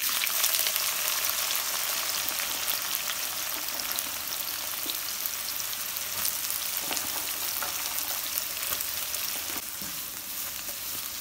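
Chopped onions, four of them, frying in oil in a pan for egg biryani, giving a steady, dense sizzle with faint crackles throughout and no talking.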